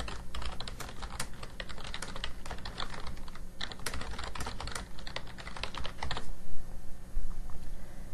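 Rapid, close keyboard typing on a computer, a dense stream of crisp key clicks that runs steadily for several seconds before thinning out.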